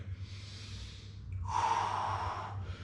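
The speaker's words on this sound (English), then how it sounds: "Full inhale, exhale through it." Slow full breath in and out during a stretching and mobility routine, a soft airy inhale followed by a stronger, longer exhale, close and alone with no talking.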